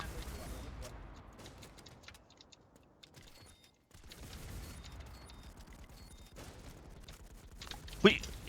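Gunfire in a shooting video game, with faint rapid clicks and shots scattered through the clip and a louder burst near the end, under someone talking throughout.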